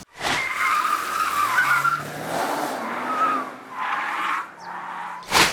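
A 2022 Range Rover P440e PHEV plug-in hybrid, weighing nearly three tonnes, runs a moose-test evasive manoeuvre and slalom, its tyres squealing in long, wavering screeches over steady engine and road noise.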